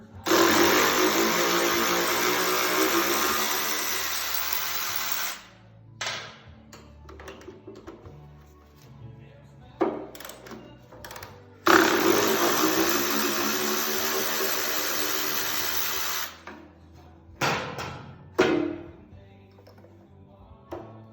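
A power tool runs in two long bursts of about five seconds each while pulling 12 mm bolts from the front brake calipers of a Harley FLTR bagger motorcycle. Shorter clicks and knocks fill the gaps between the bursts.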